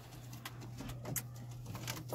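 Frightened pigeons in a home loft give a faint, steady low coo that runs under quiet background noise, with a few soft taps.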